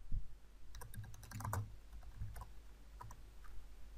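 Quiet, fairly close computer-keyboard typing: a run of quick, irregular key clicks with short pauses between bursts, alone without talk.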